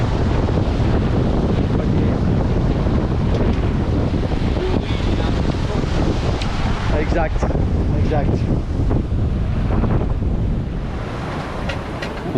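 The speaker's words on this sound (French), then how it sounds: "On a beaucoup de vent et il fait pas beau." Strong wind roars across the microphone of a sailboat in rough seas between Elba and Corsica, a constant loud buffeting with waves and surf beneath and a few brief spoken words.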